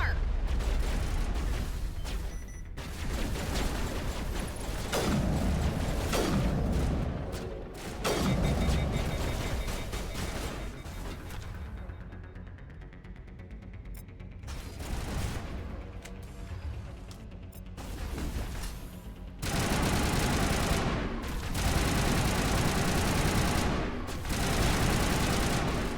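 Rapid gunfire bursts and heavy weapon blasts from the Mass Effect video game come in dense volleys, broken by brief quieter lulls, loud and close throughout.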